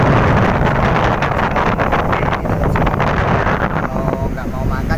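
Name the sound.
strong wind on the beach while fishing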